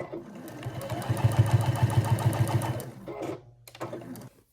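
A sewing machine stitching fabric for a Christmas stocking runs in a fast, even rhythmic whir for about three seconds, then stutters briefly in reverse and stops, close and clear.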